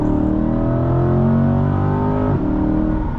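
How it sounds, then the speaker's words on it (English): A 2023 Chevrolet Corvette Stingray 3LT with Z51 and a mid-mounted V8 accelerates hard, its engine note climbing steadily in pitch through a gear before a quick shift drops it and it pulls again, loud and close from inside the car. "And that V8 sounds fantastic too."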